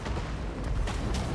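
Muffled, distant booms of cannon fire from a Total War: Warhammer 3 battle roll faintly over a steady wash of low battlefield rumble.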